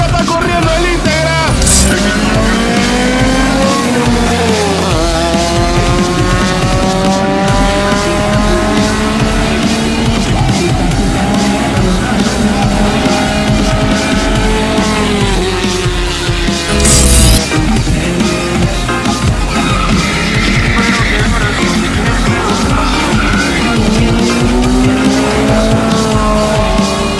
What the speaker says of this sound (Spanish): Una chica está corriendo el íntegra.